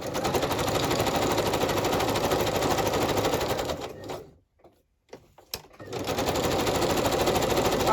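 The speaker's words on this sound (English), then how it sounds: "I need to stitch around the rest of it." A sewing machine stitches around a piece of junk mail in a fast, steady whir, stopping for about a second and a half midway before running on again loudly to the end.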